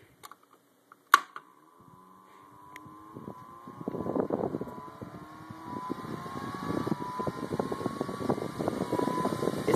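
A high-powered brushless Delta computer fan starts up after a sharp click, its whine rising steadily in pitch as it spins faster, joined by growing buffeting wind noise close to the microphone.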